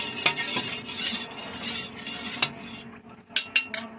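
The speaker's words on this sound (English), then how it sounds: "going to give the pan a stir" A utensil scrapes and stirs around a pan of hot sauce, steady swishing broken by sharp metallic clinks against the rim, ending in a quick run of taps.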